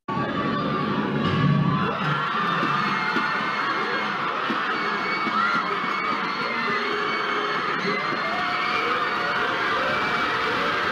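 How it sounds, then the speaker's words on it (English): A large stadium crowd in Usain Bolt's Jamaican hometown cheers and shouts continuously at a race, a loud, roaring wash of voices with whoops rising above it and no clear single speaker. "just listen to the crowd"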